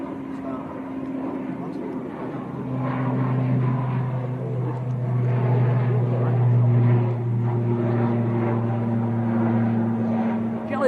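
An aircraft takes off at Manchester Airport, its engine drone building and swelling in loudness through the middle while people talk over it nearby.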